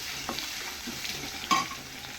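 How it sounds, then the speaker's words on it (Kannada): Crushed garlic sautéing in a pan with curry leaves for an instant tomato sambar, a steady soft sizzle with occasional stirring scrapes and one louder clatter midway, no talking. "ಬೆಳ್ಳುಳ್ಳಿನ ಹಾಕಬೇಕು. ಇದನ್ನ ಸ್ವಲ್ಪ ಬಾಡಿಸ್ಕೊಂಡು"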